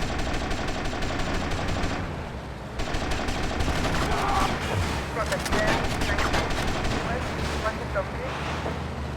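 Gunfire in the GTA Vice City video game, with bursts of automatic shooting and scattered explosive cracks over game music and engine noise, loud and continuous through the stretch.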